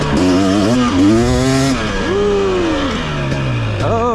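A 2023 KTM 250 XC dirt bike engine held at about half throttle, a loud, close two-stroke drone whose pitch rises and falls in waves as the rider rolls on and off, with no talk over it.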